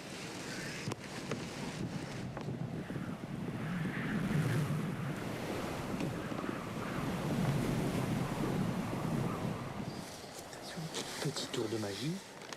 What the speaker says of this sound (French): Ça commence à bien bouger, à faire des belles vagues.